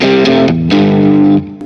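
Distorted electric guitar, a Glarry Strat-style in pickup position 3, playing a short run of sustained chords that shift several times, ringing bright and loud before fading at the end.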